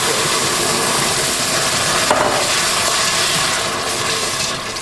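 Liquid pours steadily into a hot pan during whisking for a green bean casserole sauce, giving a dense, even rushing hiss that stays loud for several seconds with no talk.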